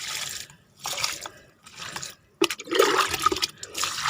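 Liquid fertilizer splashes from a container onto the soil of potted sapota plants in four or five separate close pours, each a short gushing burst with brief quiet gaps between.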